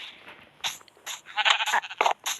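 Several sheep bleat in quick succession, close and fairly loud, with overlapping calls building toward the end.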